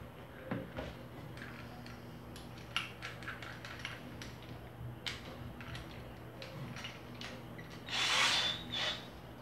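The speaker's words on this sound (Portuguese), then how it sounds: "Furadeira com impacto." Faint rattling hammer of an impact drill boring a hole into a surface, with clicks and knocks and a louder grinding burst near the end.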